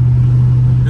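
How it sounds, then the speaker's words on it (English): A Dodge Scat Pack car cruises along a highway, its engine giving a loud, steady low drone with constant road noise and no breaks. "Y'all just enjoy me just driving on that highway right now until, you know, we stop"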